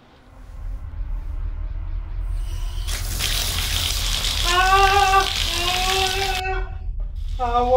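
Hot water runs from a tap in a steady splashing gush, joined partway through by a wavering, crying voice over the flow before it cuts off.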